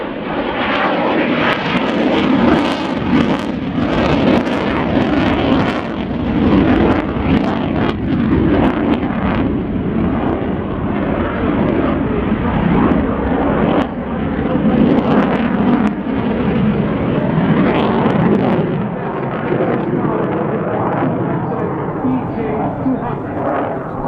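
A military jet from Coningsby rolls for takeoff at an air show, its engine roar loud, broad and continuous throughout, with a voice heard faintly over it.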